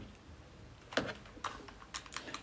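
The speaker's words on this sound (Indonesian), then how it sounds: "Sini aku yang ngetik" Keys tapped on a keyboard at home, a few distinct clicks in an uneven rhythm, close and fairly clear with no talking.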